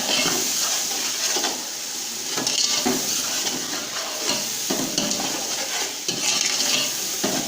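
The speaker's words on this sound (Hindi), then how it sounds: "इसको अच्छे तरीके से पकाएंगे जब तक टमाटर सही तरीके से गल ना जाए" Tomatoes cook in a hot pan with continuous loud sizzling, with stirring and scraping sounds throughout and no talking.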